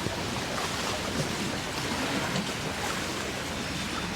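Water splashing and churning at the riverside of the Chao Phraya in Nonthaburi, Thailand, a steady, close, broadband wash that continues without a break for the whole stretch.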